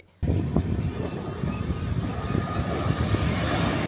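The Amrit Bharat Express, running from Malda to Bangalore, kicks in with a loud, steady rumble and rattle that stays constant from start to finish, with no one speaking.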